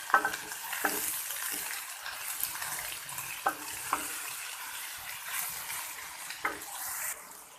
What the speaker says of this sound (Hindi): अब मैं इसमें डालूंगी प्याज और इनको मैं अच्छे तरीके से भून लूंगी।